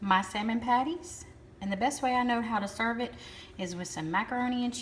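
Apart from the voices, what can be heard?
No everyday noises stand out.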